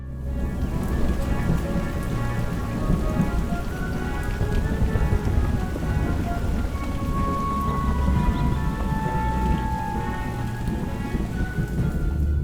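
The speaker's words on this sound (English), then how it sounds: "It's raining down on him. It's thunder." Heavy rain pours steadily on surfaces while thunder rolls low and continuous beneath it, a dense, unbroken storm soundscape with no voices.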